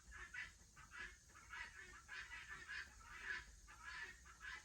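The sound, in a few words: guinea fowl calling outside a pottery shop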